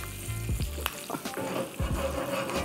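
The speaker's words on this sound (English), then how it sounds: "beautifully frying here, you know, in this we just want to slightly caramelize this" Bottle gourd and other vegetables sizzle steadily in a hot pan, a crackling fry with occasional stirring scrapes and knocks, close by and without talk.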